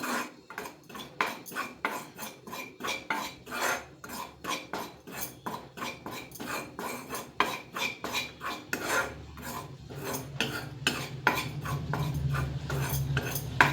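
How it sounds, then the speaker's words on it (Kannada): Gram flour roasted in a pan over medium heat for a barfi sweet, stirred with a utensil that scrapes the pan in a fast, steady rhythm of close, regular strokes. "ಕಡಲೆ ಹಿಟ್ಟನ್ನ ಹಾಕ್ಕೊಂಡು ಸ್ವಲ್ಪ ಲೈಟಾಗಿ ಫ್ರೈ ಮಾಡ್ಕೋಬೇಕು ಲೈಟಾಗಿ ಮುಕ್ಕೋಬೇಕು"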